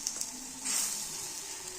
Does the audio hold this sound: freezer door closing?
no